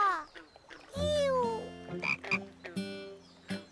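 A frog in a children's cartoon croaks loudly and close by, a run of several tonal, warbling calls in uneven bursts with short gaps, heard alone without talk.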